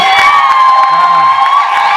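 A church congregation cheers and whoops together in a continuous, loud wash of voices, with a sustained tone running beneath the crowd.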